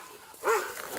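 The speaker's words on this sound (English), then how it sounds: "Hold on, it's another dog." A single dog bark, faint and distant, sounds at a police arrest scene after a high-speed chase. It is a short, sharp yelp that rises out of quiet background noise.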